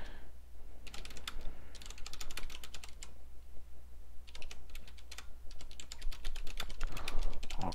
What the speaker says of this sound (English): let me actually type this out